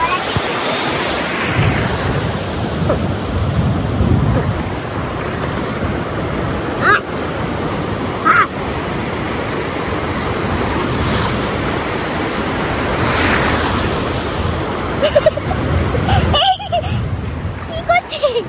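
Sea waves wash steadily onto a beach at a campsite, a continuous roar of surf mixed with buffeting wind on the microphone, fairly loud, with occasional voices nearby.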